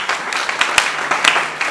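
Audience clapping for a panel at a health professionals awards ceremony, a loud ragged patter with several sharp individual claps standing out near the microphone.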